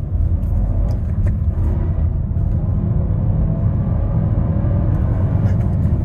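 A Renault Austral with a 130 hp engine accelerating on the road, heard from inside the cabin as a steady, loud low rumble of engine and road noise without speech.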